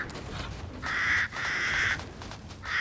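Crows in the video game Resident Evil Village give three loud, harsh caws in close succession over a low ambient background, with no speech.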